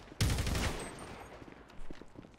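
A single heavy shotgun blast in GTA 5 roleplay booms close and loud, then decays, followed by faint scattered shots and a weaker second report further off.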